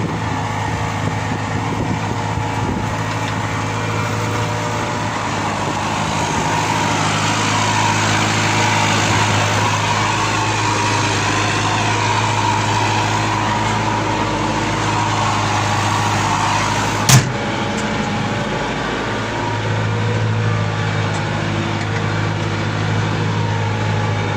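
A TD 100 D four-wheel-drive tractor's engine runs steadily and close by, a continuous rumbling drone with a strong low hum that holds level throughout, broken by one sharp knock near the end.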